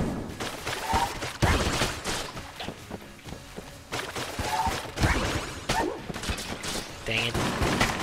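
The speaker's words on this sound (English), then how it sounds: "That is Shade's revolver, I'm pretty sure." Revolver gunfire in the video game Enter the Gungeon, several separate sharp shots spaced across the clip amid game sound effects, with a voice talking in between.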